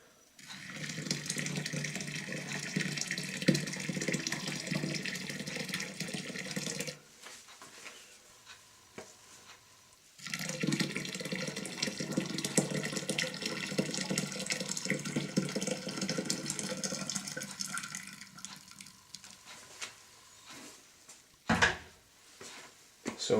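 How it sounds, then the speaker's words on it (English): Boiling water is poured into a red wine kit in two long, splashing bursts of running liquid, close by, separated by a short pause and followed by a few clinks and knocks as the pouring stops. "So I've got to add some boiling water just to see if I can raise the temperature a bit."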